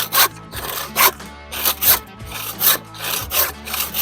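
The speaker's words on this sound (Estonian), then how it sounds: "Ja kohe saab saetud." Hand saw cutting through wood for a bunk bed rail, rhythmic back-and-forth rasping strokes, about eight loud close pulls in steady succession.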